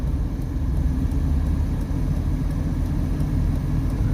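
A supercar, a Ferrari, rolls along Fremont Street in Las Vegas on a Saturday night, its engine a loud, steady low rumble throughout, close by with no talk over it.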